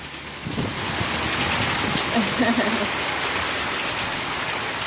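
Heavy storm rain falls hard in Queensland, gutters overflowing, as a steady, loud, close hiss with a faint murmur of voice underneath for a moment.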